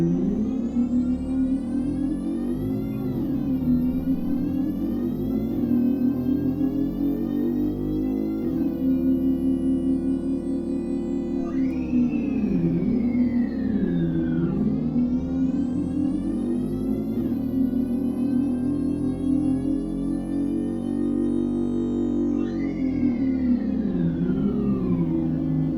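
Roblox video game vehicle engine heard from the cabin, a whirring tone that climbs in repeated sweeps like gear changes and then drops back, steady and alone.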